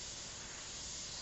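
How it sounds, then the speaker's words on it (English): Airbrush spraying paint during a portrait painting session gives a short, steady, close hiss of air and atomised paint, even and unbroken, alone without talk. "you see I'm getting really nice spray pattern"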